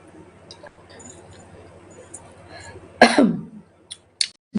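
After quiet rustling, a single loud, close cough bursts out, followed by a few short clicks and small noises.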